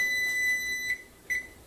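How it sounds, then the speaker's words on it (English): Kitchen timer beeping with a steady high electronic tone, followed by two brief chirps, faint and close, set against quiet room noise. "that was my timer"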